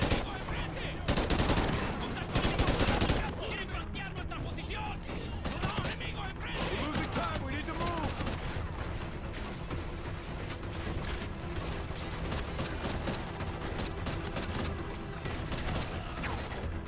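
Game gunfire in Call of Duty: Ghosts, sustained bursts and volleys of shots running the whole stretch amid battle noise, loud and dense, with voices talking over parts of it.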